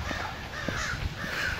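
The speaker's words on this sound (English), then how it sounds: "And you can hear them all in that tree." Several crows caw from a tree, their harsh calls overlapping at a moderate distance against steady outdoor background noise.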